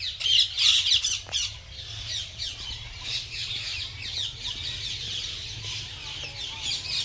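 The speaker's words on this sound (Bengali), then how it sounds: "অ্যাকচুয়ালি এই হাঁসগুলোর নামই রাজহাঁস।" Several geese at a park pond honk and squawk in loud, overlapping bursts that carry on steadily against a low background rumble.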